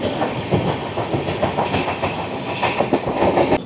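The Jammu Tawi Express from Kolkata rolling on rails near Dum Dum Junction, a loud, continuous rumble with rhythmic clickety-clack from the wheels, heard up close from on board.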